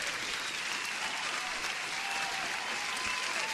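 A cheering applause sound effect fired from a soundboard: a dense, steady wash of clapping and crowd noise holding at an even level for several seconds, with no talk over it.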